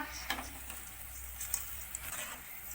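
Okra crisping in hot oil in a pan gives a faint, steady crackle and sizzle, with a few soft stirring taps.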